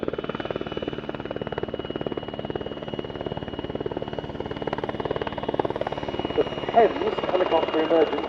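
A Royal Air Force helicopter-type rotor drone at the RIAT 2022 airshow, steady whirring rotor noise with engine hum throughout, fairly close and continuous, a brief louder swell near the end.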